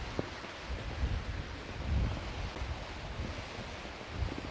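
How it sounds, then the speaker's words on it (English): Strong wind buffets the microphone over choppy waves on open water, a steady, loud rushing roar with gusty swells and no talking. "I mean, here's how windy it is. I mean, look at this. Look at the water."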